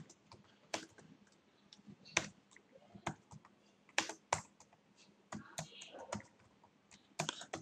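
Keys clatter on a computer keyboard in short irregular bursts of typing with pauses between, fairly close and quiet, no talking.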